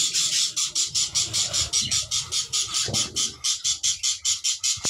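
Caged budgerigars squawk in rapid, evenly spaced bursts, a close and loud chattering run that continues without pause.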